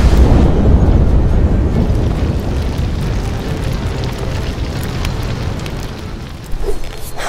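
A loud, roaring fireball blast like a fantasy spell effect, a heavy rumbling whoosh that sustains and slowly fades, with a small burst near the end.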